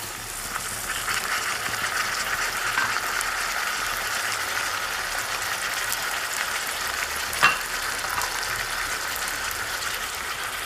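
Cubed tomatoes added to onions frying in a pan for bhindi masala, giving a steady, dense sizzle with faint stirring clatter and one brief louder knock.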